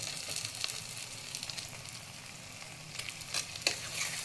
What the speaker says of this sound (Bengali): ডিমগুলি দিয়ে ভালো করে একটু নেড়ে একটু কষিয়ে